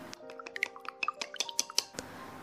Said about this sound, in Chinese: 再准备两个鸡蛋，打散